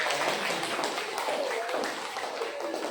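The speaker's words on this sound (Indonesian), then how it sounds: "tepuk tangan kita" A mathematics classroom of students claps together briefly in a short, dense burst of hand claps, with voices mixed in.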